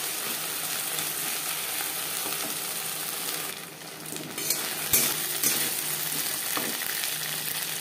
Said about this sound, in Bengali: পেঁয়াজ আমি হালকা করেই ভেজে নেব